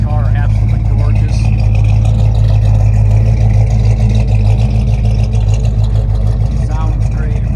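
A 1972 Oldsmobile Hurst's 455 big-block V8 idles and revs steadily with a deep, throaty rumble, continuous and close for the whole stretch.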